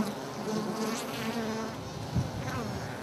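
A dense, steady buzz of honeybees swarms around a hive being raided by a honey badger, loud and continuous with rustling and handling noises underneath.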